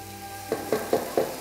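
Chop suey rice finishes cooking in a hot pan. A steady low sizzle is broken by four quick, evenly spaced stirring scrapes, close and fairly quiet.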